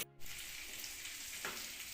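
Pointed gourd (potol) frying in oil in a pan, a continuous soft sizzle and crackle heard close, with a brief clatter of stirring or handling at the start.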